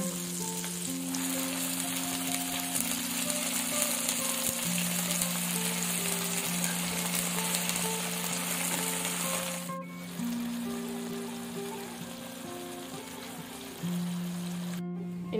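Spinach being stir-fried in a pan, a loud continuous sizzle with crackling spatter and occasional stirring, accompanied by a steady background hum, no talking.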